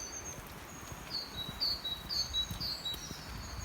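Faint birdsong outdoors: a few thin, high chirps repeat in a short, even series over quiet rustling ambience, distant and soft.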